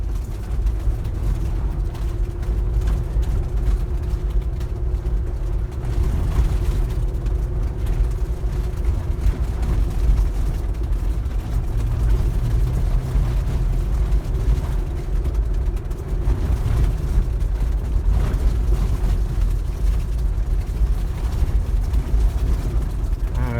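Off-road vehicle driving a rough desert trail to Barker Ranch, a continuous low engine drone and rumbling tire noise with bumps and rattles, loud and close, steady for the whole stretch.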